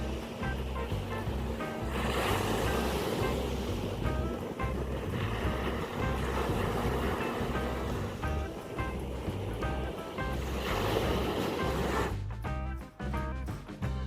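Ocean waves break on the shore at Myrtle Beach, a loud continuous wash of surf with wind buffeting the microphone and rolling low rumbles, the roar rising and falling over several breaking waves.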